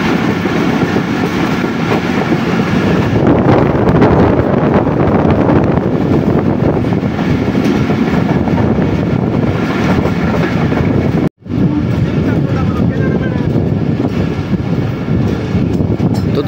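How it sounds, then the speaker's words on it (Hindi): A passenger train slows under braking on its approach to Okara railway station, a steady loud rolling rumble with wheel noise and wind buffeting, briefly cutting out once near the end. "ब्रेक अप्लाई होना शुरू हो गई हैं और ट्रेन हमारी अप्रोच बना रही है उकाड़ा रेलवे स्टेशन पर"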